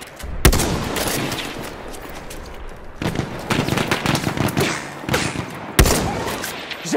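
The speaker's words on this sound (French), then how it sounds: "Là! Mitrailleuse ennemie!" Enemy machine gun fire in Battlefield 1, sharp loud bursts and single cracks over a dense wash of distant gunfire and explosions, with rapid clustered volleys from the middle onward.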